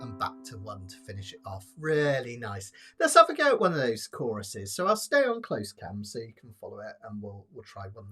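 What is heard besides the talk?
No everyday noise stands out behind the speech.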